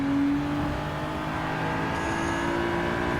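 Race cars overtaking in Gran Turismo 7, including a BMW M4, give a steady loud engine drone with a sustained droning tone, heard close and continuous without a break.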